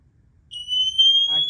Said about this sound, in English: Activates your pass alarm.